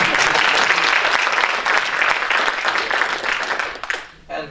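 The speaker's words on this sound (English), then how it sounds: "a round of applause again" Audience applause at a hackathon showcase, a dense steady patter of many hands that stays loud and close before fading out near the end.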